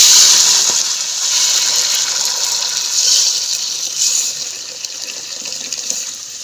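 Water pouring into a cooking pot in a home kitchen, a steady loud hissing gush that fades somewhat toward the end, heard alone.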